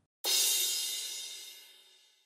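A single crash cymbal sample from a remake of a song, bright and splashy, ringing out and slowly fading over about two seconds, alone.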